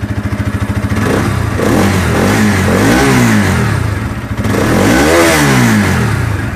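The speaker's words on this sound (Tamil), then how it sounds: "இப்போ பைக்கை ஸ்டார்ட் பண்ணிட்டேன்." A Bajaj NS motorcycle with an OBD diagnostic cable plugged in runs close by just after starting, its engine idling with a steady throb and then revving up and falling back twice.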